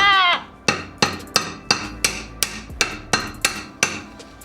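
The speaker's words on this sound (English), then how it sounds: "Should I just hammer it?" A hammer strikes a metal coilover part on an EK Civic, landing about ten sharp, ringing blows at a steady, fairly quick rhythm, close and loud.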